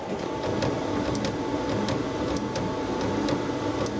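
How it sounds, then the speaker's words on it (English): A DTG printer running a print job, giving a steady mechanical whir and hum with regular light clicks as the head moves, close and continuous, with no talk. "I'll show you it printing"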